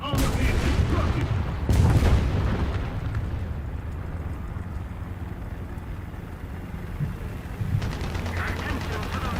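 A bomb explodes nearby in War Thunder tank combat, a loud boom with a sharp blast near the start, followed by a long rumbling roar and scattered gunfire as a voice speaks briefly.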